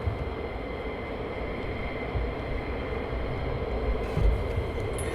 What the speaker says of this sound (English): There's an Osprey. Hey, there you go. Just seen an Osprey.